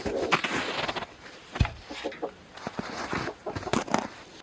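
Backyard homestead chickens and a rooster clucking and squawking nearby, with short rapid calls in scattered bursts among rustling and knocks inside a coop.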